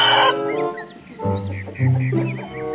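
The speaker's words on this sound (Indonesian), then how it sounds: "ternyata ini ayam jago." A rooster clucks and crows in a series of loud, close calls, a short burst first and then longer strained notes, heard alone with no talk.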